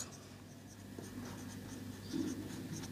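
Marker or chalk writing on a board while a column for marks is noted, soft continuous scratching strokes over three seconds at low level with a steady hum beneath.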